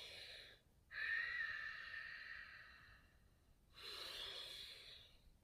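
Audible breaths accompany a standing yoga movement: a brief breath, then a long, airy inhale lasting a few seconds, a short pause, and a second long exhale. The breathing is close and soft, with no talking.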